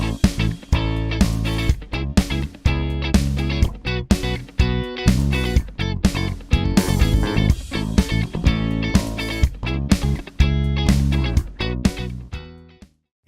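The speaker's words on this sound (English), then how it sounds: "I've recorded this guitar track right here, which sounds like this." Recorded electric guitar track played back in Reaper, a rhythmic pattern of strummed chords with sharp, regular attacks and short gaps, loud and clear, ending in silence.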